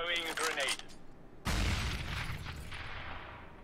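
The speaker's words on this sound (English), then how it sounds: "Throwing a grenade." A thrown grenade in a video game goes off with a sudden heavy boom and crackling burst that tails off slowly, following a brief stretch of voice at the start.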